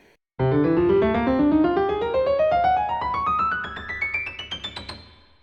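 A rising run of instrumental notes climbs steadily in overlapping groups built from the first four notes of the major scale, growing higher and brighter before ending in quicker, separated notes.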